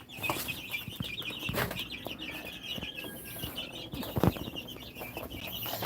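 Gamecocks in a yard with other birds, a fairly quiet scene of soft clucks, chirps and a few wing flaps, with a sharper sound near the end.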